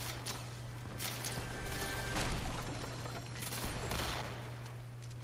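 Gunfire in Fortnite: bursts of rapid shots and crackling impacts spread across the clip, fairly faint and distant, over a constant low hum.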